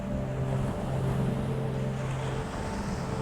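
Ocean waves roll onto a beach at sunrise, a continuous loud wash of surf mixed with wind buffeting the microphone and a low droning hum, with no voices.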